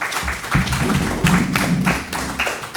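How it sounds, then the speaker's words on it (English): A small audience claps at an auto-racing radio show event, a short uneven round of hand claps, close and moderately loud, with some background talk mixed in. "round of applause if we could"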